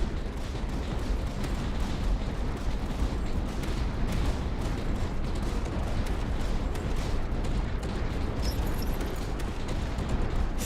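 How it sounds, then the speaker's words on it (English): Light mortars firing in the strategy game Tower Dominion, a dense, continuous barrage of overlapping booms and crackling blasts that stays loud and steady throughout, with no break in the din. "light mortars are great, man"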